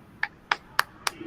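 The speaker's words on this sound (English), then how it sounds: "round of applause?" Four sharp, evenly spaced claps from a single pair of hands, close and fairly quiet, with no voices over them, at a tech team's weekly wins and demos meeting.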